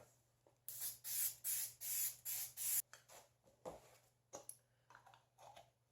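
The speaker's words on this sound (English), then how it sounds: "give them a spray." An adhesive spray can hisses in five quick bursts, each about half a second long, followed by soft handling clicks and rustles close by.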